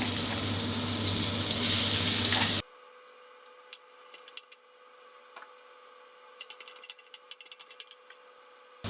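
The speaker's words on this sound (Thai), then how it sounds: "พริกกระเทียมที่เราโขลกไว้นะครับ ลงไปผัดให้หอมก่อนเลยนะ" A loud, steady hiss of pounded chili and garlic stir-frying in hot oil for a few seconds, then it drops to faint clicks, taps and light scraping.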